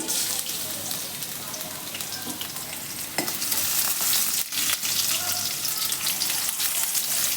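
Mustard seeds and garlic fry in a couple of spoonfuls of oil in a pan for a Mandya-style upsaaru, giving a loud, steady crackling sizzle with scraping stirs throughout and a slight rise in intensity midway.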